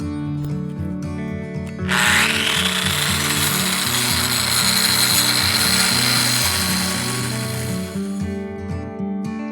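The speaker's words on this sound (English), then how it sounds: "I'm going to have to do some detailing of the joints with a diamond grinder" Diamond grinder cutting and detailing the joints of a carved vertical-mix concrete brick oven surface, a loud sustained whine that starts abruptly and runs steadily over background music.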